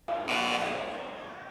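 A loud electronic buzzer blares at the start of an Army combatives fight-night match, one sustained harsh tone lasting over a second that fades slightly at the end.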